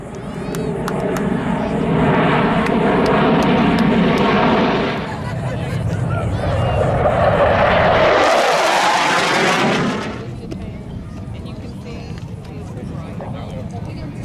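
Blue Angels jets performing a flight demonstration at Pensacola NAS air show: loud roaring passes that swell and fade, with a sharp Doppler-shifted sweep as one jet screams overhead, under announcer talk and crowd noise.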